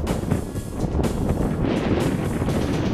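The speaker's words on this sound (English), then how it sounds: "Yeah, very windy." Steady, loud wind buffeting the microphone outdoors during a model RC aircraft flight, a continuous low roaring rumble with gusty surges throughout and no voices.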